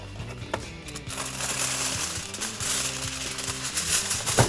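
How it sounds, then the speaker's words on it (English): Aluminium foil crinkles and crackles close by, handled while building a homemade spotlight, with continuous rustling and a few sharper crunches throughout. "So now we're going to take the foil again."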